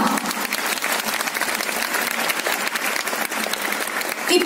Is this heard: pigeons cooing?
no